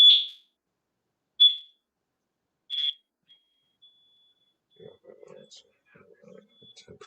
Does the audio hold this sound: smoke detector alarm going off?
yes